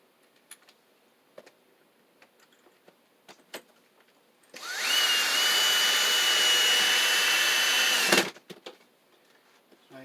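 A power driver runs in one steady burst of about three and a half seconds, driving a screw with a washer through wood near a sill. It is loud and close, with light handling taps before and after.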